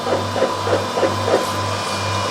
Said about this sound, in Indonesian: Mesin melakukan pengaprinan dan vakum hidup secara otomatis.